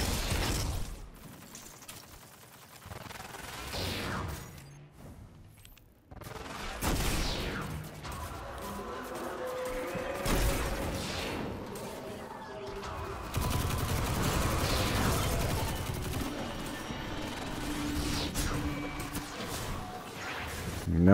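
Video game gunfire in Destiny 2 comes in dense, rapid bursts of shots mixed with mechanical clatter and impacts, loud and close, with some game sounds between the volleys.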